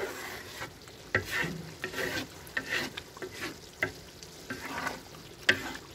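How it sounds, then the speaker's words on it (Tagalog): Sweet spicy bagoong sizzles gently in a pan as a utensil stirs and scrapes the bottom in irregular strokes, with a low frying hiss throughout. "Hahaluin lang po para hindi manikit sa ilalim."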